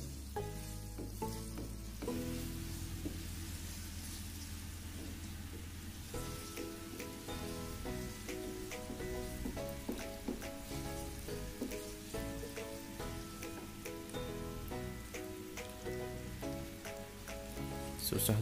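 Aglio olio with grated cheddar is stirred in a frying pan, giving a steady low sizzle with stirring scrapes, partly masked by background music throughout.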